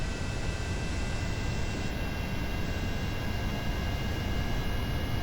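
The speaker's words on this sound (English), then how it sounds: "those would all fire at the same time after our jet engines get us to altitude" Jet engines of a craft lifting off in Kerbal Space Program, a steady, dense roar with a high whine that holds constant and loud throughout.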